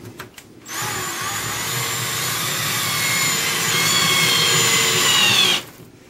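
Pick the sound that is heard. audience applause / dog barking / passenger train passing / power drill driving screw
power drill driving screw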